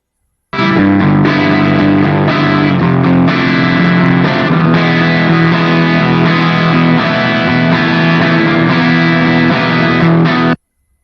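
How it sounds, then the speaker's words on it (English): Heavily distorted, sustained tone with a thick, boosted low end, playing steadily at high volume for about ten seconds before cutting off abruptly. "And now distortion with boosting of the low frequencies."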